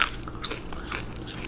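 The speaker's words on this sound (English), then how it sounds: "Little crunchy fish chip." Crisp bite into a crunchy, deep-fried whole catfish tail, a quick close crackle followed by a few faint chewing crunches, brief and quiet.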